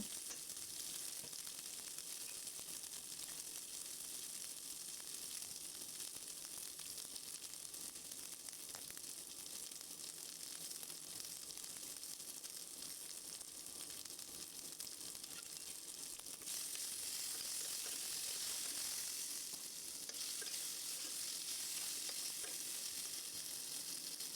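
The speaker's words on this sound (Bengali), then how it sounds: "এখন আমি আলুগুলোকেও ভেজে নিব একটু লবণ সামান্য একটু হলুদ দিয়ে আলুগুলোও ভেজে নিব" Potatoes with salt and a little turmeric fry in a pan, giving a steady close sizzle with faint stirring scrapes and no talk throughout.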